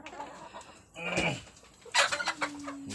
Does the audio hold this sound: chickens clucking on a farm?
yes